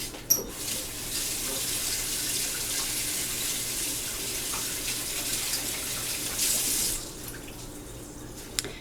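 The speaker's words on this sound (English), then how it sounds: "Let me wash my hands." Hands are washed under a running kitchen tap, a steady close rush of water into the sink for several seconds before the flow cuts off with a final drip.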